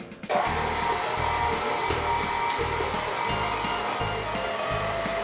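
A stand mixer runs steadily while mixing cookie dough, its motor holding a continuous whirring drone with a rhythmic churning pulse underneath, close and fairly loud, starting just after a brief quiet moment with no talking.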